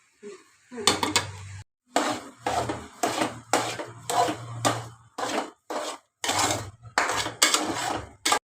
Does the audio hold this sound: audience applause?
no